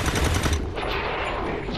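Rapid gunfire from the XCOM 2 video game during a fight with Advent forces, loud and dense bursts filling the whole moment, with a brief voice underneath.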